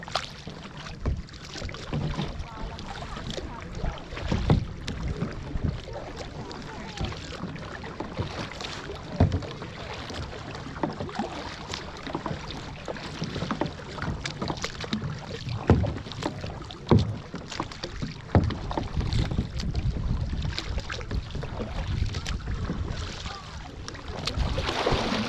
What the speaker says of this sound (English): Turning the boat. Keep your direction straight.